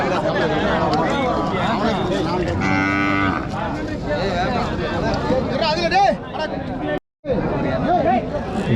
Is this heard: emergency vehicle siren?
no